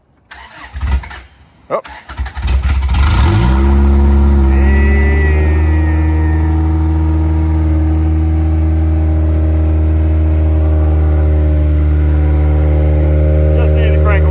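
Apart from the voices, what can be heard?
car engine cranking and starting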